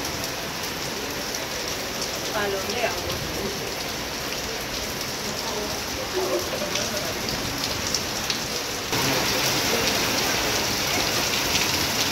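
Steady rain falls in Havana, Cuba, as a cold front moves in, a dense, even hiss of drops on surfaces that continues throughout and grows slightly louder near the end, with no voices.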